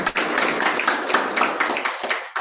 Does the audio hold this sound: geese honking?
no